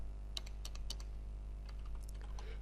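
Code is typed on a computer keyboard in quick clusters of close, crisp key clicks over a steady low electrical hum.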